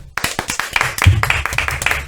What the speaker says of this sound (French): Razak, bravo, on peut l'applaudir